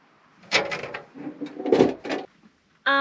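A sliding wooden drawer for a camping cooker being fitted in a VW Caddy Maxi camper van conversion makes a run of scraping, knocking slides and bumps, ending with a short tonal beep.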